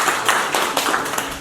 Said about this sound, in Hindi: मैम के लिए एक बार तालियां हो जाए